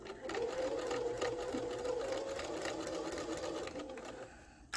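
A sewing machine stitches a fabric face mask in one steady, close whirring run lasting several seconds before slowing to a stop, with no talking over it.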